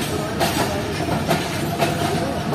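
Karachi Express coaches rumbling past close by on the main line, a steady broadband roar with faint rhythmic wheel clicks over the rail joints.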